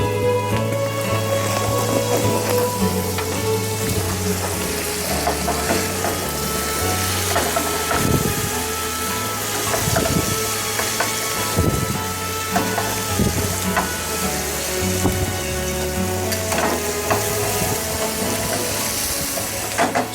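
Asparagus sizzles steadily in a hot pan for chicken piccata, a dense continuous frying hiss with a few louder crackles and pops, close and without speech.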